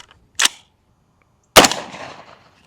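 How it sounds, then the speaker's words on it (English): Two close, loud shots from an AR rifle firing .223 rounds into a stack of plates, a short sharp crack first, then a heavier blast about a second later with a ringing decay. "Moving up to the AR, shooting around a 223."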